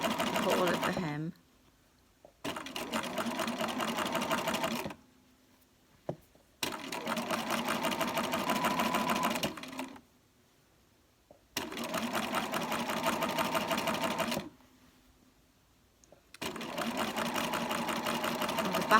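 Bernina sewing machine fitted with foot 64 stitching a narrow turned hem around a curved shirt edge, running in long steady bursts of rapid whirring stitches separated by short pauses, close and clear.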